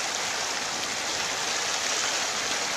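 Fast-flowing water of the lower Rush River near Prosper, North Dakota, in April at about 8 feet per second, a loud, steady broadband rush with no pauses or voices.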